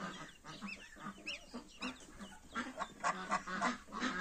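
Goslings on a small farm, kept alongside ducklings and a mother duck, honk and peep in rapid, high overlapping calls, close by and fairly soft, with no speech.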